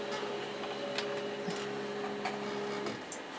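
An embroidery machine sews a placement stitch, giving a steady close mechanical whir with faint rapid ticking and a sustained motor hum, with no voices.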